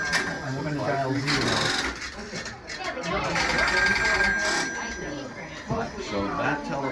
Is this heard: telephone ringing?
yes